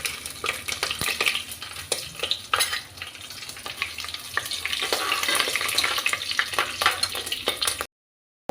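Masala spices dropped into hot mustard oil in a pan for chicken bhuna masala, giving a steady close sizzle and crackle with occasional stirring clicks, ending in a brief silence.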